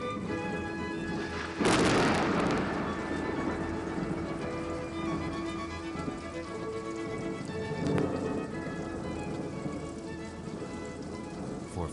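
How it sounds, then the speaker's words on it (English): Light spring rain falls steadily across the whole stretch, a soft even hiss, broken early by a sharp thunder crack and later by a fainter rumble, with a voice speaking over it. "The light rains awaken the young grass as thunder heralds the dawn of spring."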